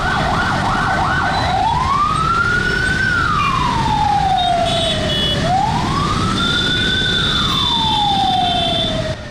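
An ambulance siren wails in long rising and falling sweeps, two full cycles, while the ambulance is stuck in heavy traffic on a road in Tirur. A dense rumble of traffic runs underneath, and no one speaks.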